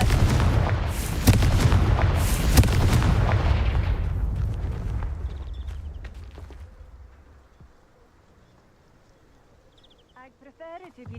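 Confringo explosive spell in Hogwarts Legacy, a heavy booming blast with rumbling crackles that decays over several seconds into quiet room tone, followed by faint scattered clicks and a brief voice near the end.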